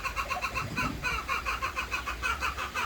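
Chickens and chicks cluck and squawk in a steady, busy chorus inside a coop, close by and fairly loud, with no voices over them.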